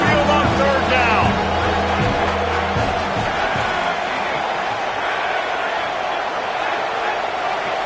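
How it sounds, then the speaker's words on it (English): A large football stadium crowd at an Alabama Crimson Tide game roars loudly and steadily on third down, a dense, continuous wall of cheering with a broadcast announcer talking over it. "The Tide crowd rolling noise down on the Saban field on 3rd down."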